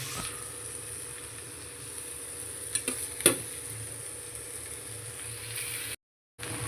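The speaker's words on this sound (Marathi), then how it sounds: "कारण आता आपण याच्यामध्ये राईस मिक्स करायचं आहे थोडा थोडा करून मिक्स करूया" Rice and mixed vegetables are stirred on a tawa for tawa pulao, a soft continuous sizzle with a few sharp scrapes and taps of the spoon, then a brief cut to silence near the end.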